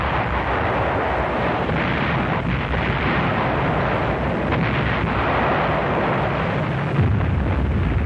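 Marine rocket launchers firing during a World War II battle in archival war footage, a continuous loud roaring rumble with bursts and a wind-like rush throughout, no voices.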